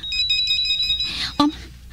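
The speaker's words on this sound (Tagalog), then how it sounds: "Ang telepono." A telephone rings in a quiet indoor scene, a repeating electronic trill pulsing through most of the moment before a short, sharp knock-like sound cuts in near the end.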